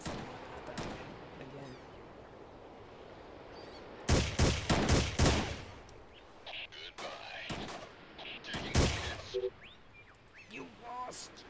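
Bursts of gunfire in the Ghost Recon video game, a tight cluster of loud rapid shots around the middle and another sharp burst later, with quieter clattering and voices in between.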